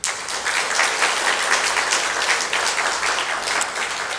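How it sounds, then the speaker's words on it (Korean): A church congregation applauds after a hymn during Sunday morning worship, with steady, dense clapping from many hands that holds at a loud, even level throughout without a break. "찬양하시면은요, 박수를 크게 하셔야 됩니다."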